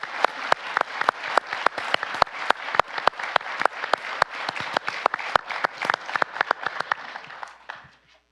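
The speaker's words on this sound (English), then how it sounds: "So would please join me in a round of applause for all the support they've given us." An audience at an international conference on World War II gives a round of applause, with crisp, close claps that build into a steady ovation before fading out.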